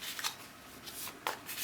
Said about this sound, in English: Okay, a little bit of a shuffle.